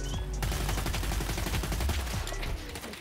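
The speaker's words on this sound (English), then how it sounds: "So we're gonna go full auto with this thing." Sustained full-auto gunfire from a weapon in Battlefield 2042, a loud, rapid, unbroken stream of shots that runs for about two seconds before cutting off, with game ambience underneath.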